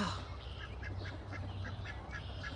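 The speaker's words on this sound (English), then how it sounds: "Look at the ducks. They're gonna go swimming already." Farm ducks quacking in a repeated series of short calls at moderate distance over steady outdoor background noise, with no talk.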